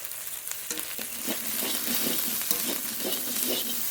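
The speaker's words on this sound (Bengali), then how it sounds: "এবার একটু কষিয়ে নেব ভেন্ডিটা" Okra fries with salt and turmeric in a spiced pan, a continuous close sizzle overlaid by rhythmic scraping stir strokes that repeat roughly every half second.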